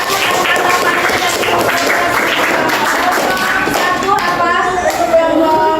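A classroom group claps for a student group after its presentation, with a dense, steady patter of many hands close by and voices mixed in throughout.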